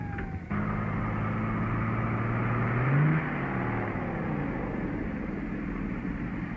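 A car speeding along a road in a 1941 film scene, with a loud, continuous engine drone and a rising whine of acceleration midway, all near and steady throughout.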